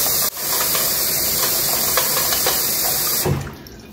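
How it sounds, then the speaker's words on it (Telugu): Water pours steadily into a face-sized bowl holding ice cubes, a loud continuous hissing splash that starts abruptly, runs for about three seconds and then cuts off. "లైట్గా వాటర్ ఫిల్ చేశాను"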